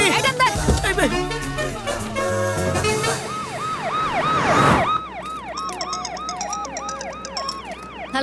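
An ambulance siren wails loud and close, its tone rising and falling in quick repeated sweeps, entering over a busy mix of music and sound effects and then carrying on alone.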